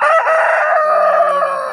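A native chicken crows loudly and close by in a single sustained call, with a hint of clucking at the start.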